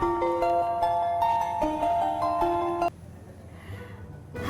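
A phone ringtone plays a melodic sequence of bright electronic tones for about three seconds, then stops, leaving quiet room noise.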